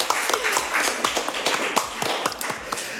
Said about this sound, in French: Ok, on peut applaudir moi si elle a joué le jeu, on peut l'applaudir.